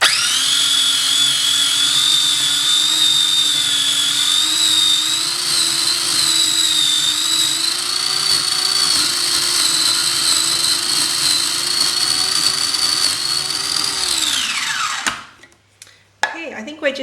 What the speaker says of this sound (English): So we'll give it a final whiz.